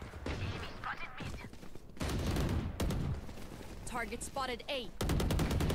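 Rapid automatic bursts from a Phantom rifle in Valorant crackle in several loud volleys, a sustained stream early on and another near the end, with a voice talking between them.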